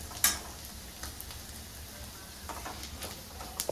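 Masala frying in a pan for Kerala-style squid curry, a soft steady sizzle with scattered scraping clicks from stirring and one sharper clatter near the start.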